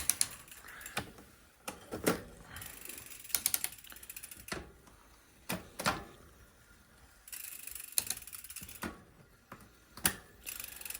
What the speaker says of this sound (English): I'm gonna shift down gears a little bit.